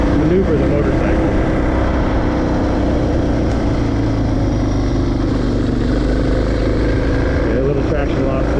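A dual sport motorcycle ridden off-road gives a continuous loud engine drone close to the mic throughout, with wind rush over it.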